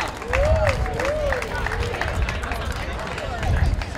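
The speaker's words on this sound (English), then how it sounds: "let's give a round of applause for her anyways" A crowd at a 5K run awards ceremony applauds steadily, with scattered clapping and murmuring under a voice speaking over a loudspeaker.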